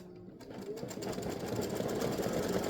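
An embroidery machine stitches a bird's tail in a steady, fast, even whir of needle strokes that runs close and continuous through the whole stretch.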